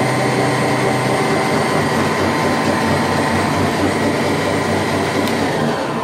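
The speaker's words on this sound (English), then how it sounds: "aim the chute where you want the snow to be blown, and then just start driving with it." A Spyker KAT 2X vehicle fitted with a snow blower drives along, giving off a steady, loud, unbroken mechanical roar and whine that holds at the same level throughout, with no talking.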